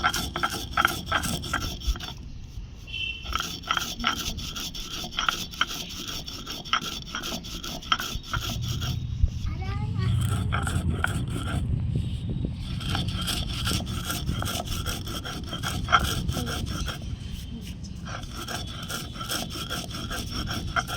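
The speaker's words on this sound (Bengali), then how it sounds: "একটু সিদ্ধ হতে হতে আমি জিরাটা বেটে নেব।" Roasted cumin being ground by hand on a stone for a sweet mango pickle, a steady rasping, scraping rub with repeated back-and-forth strokes, close and fairly loud throughout, no talking.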